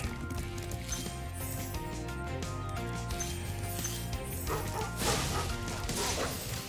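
A dog barks in the Spyro Reignited Trilogy video game, a few short yips nearly buried under busy, continuous game music and sound effects.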